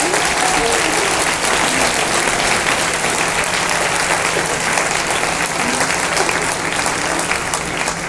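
A conference audience in Rennes claps loudly and continuously, a thick sustained burst of applause that holds at full strength throughout with no gaps.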